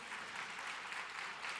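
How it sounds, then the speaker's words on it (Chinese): Steady applause from an audience at a startup demo day event, a dense even wash of clapping with no voices standing out, moderately distant and continuous throughout. "是不是值得为大家掌声鼓励一下？"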